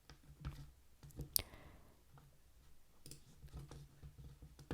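Faint, isolated computer mouse clicks while deleting a sprite in the Scratch 3.0 editor: a couple of sharp ticks over a quiet room background, with no talking.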